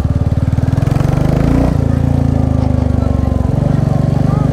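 Royal Enfield Classic 350 BS6 motorcycle with a short Punjab-style exhaust and cat can, idling with a loud, steady, deep low thump, revved briefly once partway through.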